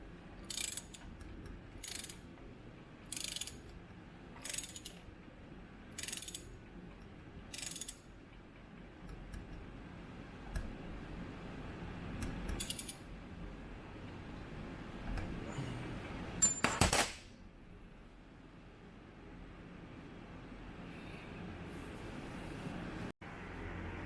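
A worn six-tooth ratchet wrench clicks in quick bursts while timing a 1958 Triumph engine, the bursts coming at steady intervals and then thinning out. Between them there are occasional metallic knocks, with a quiet room in the background.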